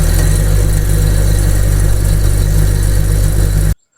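A ceiling fan coil winding machine runs with a steady, loud motor hum and drone that stops abruptly at the end.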